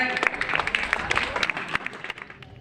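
Scattered clapping from a group at a school teaching-materials fair, a short spell of uneven claps with some sharper individual hits, fairly light and brief, with faint background voices.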